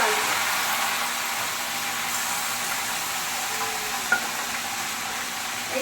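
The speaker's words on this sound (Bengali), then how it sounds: "সমস্ত সবজি একসঙ্গে কড়াইতে দিয়ে দেবো" Mixed vegetables for a vegetable arhar dal fry in a wok, giving a steady, dense hiss that stays even throughout, with one small clink near the end.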